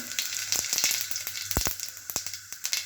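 Cumin seeds sizzle and pop in hot oil, a bright steady hiss close by with many sharp crackles scattered throughout, a few louder pops standing out, no voices.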